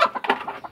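Roosters, newly bought birds at a farm, give a quick burst of nervous clucking, several short, loud, close calls in under a second.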